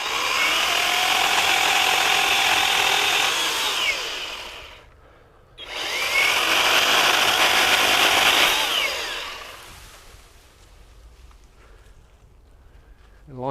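EGO 56V 10-inch pole saw cutting through a 6 to 8 inch tree trunk, a loud buzzing motor whine in two long bursts with a short pause between, then fading to quiet.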